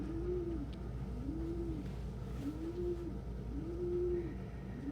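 Pigeons cooing close by in a loft, a steady run of rolling coos repeating about once a second over a low background hum.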